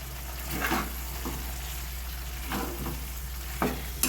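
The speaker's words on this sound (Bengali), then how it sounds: "এবার এই সাঁতলে রাখা চিকেনটা আমি এখানে দিয়ে দিচ্ছি।" Chicken pieces sizzling in oil and fried spice masala in a pan while being stirred, with a steady frying hiss and intermittent scraping strokes of the spatula, close and continuous.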